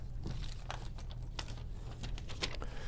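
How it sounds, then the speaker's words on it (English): A paper template is peeled off a wall around a razor-cut opening for an in-wall box, giving close, intermittent crinkling and tearing crackles over a steady low hum. "We're going to pull the template off"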